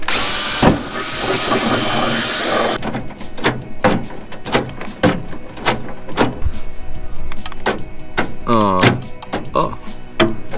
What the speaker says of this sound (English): I might just go ham drill the first one